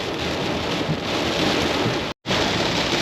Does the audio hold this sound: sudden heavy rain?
yes